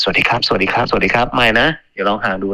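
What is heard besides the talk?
No distinct noise like a dog, phone or traffic.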